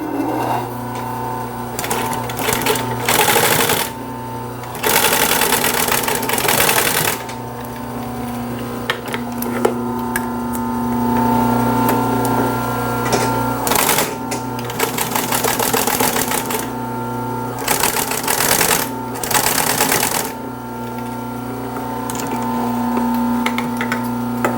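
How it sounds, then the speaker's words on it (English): Sewing machine running in bursts of fast stitching with pauses between, sewing upholstery fabric panels at a small stitch size for the corners of a 1930s Art Deco chair being restored; steady mechanical whir, close and loud. "I've got the machine stepped down to a small stitch size."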